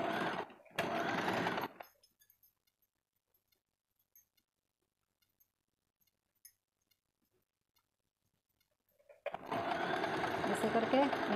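Sewing machine stitching a double katori blouse, two short bursts of fast whirring at the start, a long quiet gap with faint clicks, then a longer steady run of stitching at the end.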